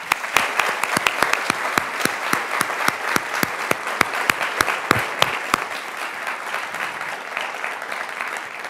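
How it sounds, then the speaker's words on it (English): An audience applauds warmly after a guest CEO's talk at an evening speaker series, with several loud, sharp individual claps standing out early before the clapping settles into an even, sustained wash. "Everybody join me in giving them a round of applause."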